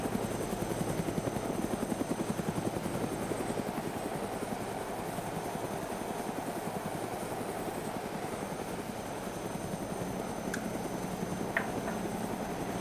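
A helicopter in the DayZ video game flies and comes in to land, its rotor chop steady and loud throughout, with a sustained engine whine and no talking.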